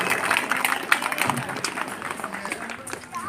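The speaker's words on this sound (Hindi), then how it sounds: "तालियों के साथ स्वागत और जोश से तालियों के द्वारा" Audience applause at a farewell and honour ceremony for a retiring education officer, a dense patter of many hands clapping at moderate distance, with a voice speaking over it.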